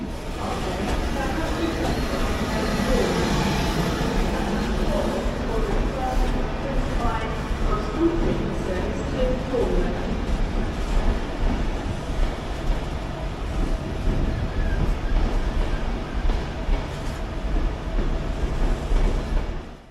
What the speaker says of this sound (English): Pushing our train is a Class 67 locomotive